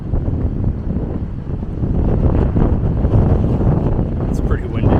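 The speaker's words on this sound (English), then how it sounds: "It's pretty windy." Strong wind buffets the microphone outdoors near the Wears Valley wildfire, a loud continuous roaring rush with gusts swelling midway, no voices clearly heard.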